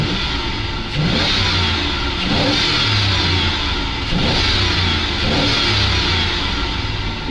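A ZIL truck engine runs loud and close while warming up, with repeated revs swelling and falling about every second and a half over a rough, steady idle.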